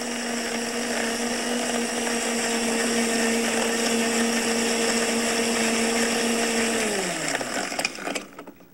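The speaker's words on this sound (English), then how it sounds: "make sure you have a blender that has really high power so it can grind the fruit well" A powerful blender grinding fruit whirs at a steady high pitch for several seconds, then winds down and stops with a rattle.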